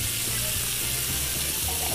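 Water is poured into a pot in the Cooking Simulator video game, making a continuous, even splashing hiss for about two seconds with a small clink near the end.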